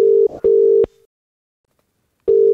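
A phone call rings out: two long, loud steady ringback tones about half a second apart, then silence, then a third tone starting near the end.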